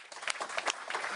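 An audience at a Paris artificial intelligence summit applauds in a short, faint, dense patter of clapping.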